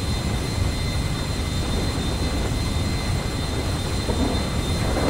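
Airplane flying in GTA 5, a dense, steady engine roar with a thin high tone running throughout, loud and unbroken, with no talk.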